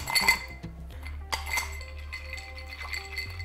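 Ice cubes clink against a glass of rum at a barbershop bar, with several bright, close knocks early on, then softer scattered taps over a low steady hum.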